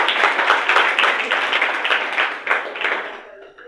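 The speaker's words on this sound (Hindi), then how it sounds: "तो जरूर इस साक्षी कुमारी का आप लोग स्वागत करें ताली बजाकर।" An audience applauds to welcome a prize winner at a Children's Day school event, a dense, lively burst of clapping with rhythmic swells that fades toward the end.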